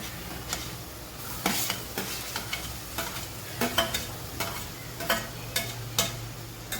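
Tomato and capsicum being mixed into masala for Mumbai-style masala pav, with a sizzling pan and repeated scraping strokes of a spatula at an uneven pace, close and moderately loud.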